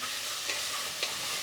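Mushrooms and pearl onions fry in a pan with a steady, fairly quiet sizzle and a couple of brief stirring clicks, with no voices.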